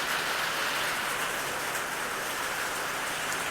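Steady, heavy rain hisses without pause, an even wash of falling water with no other sounds.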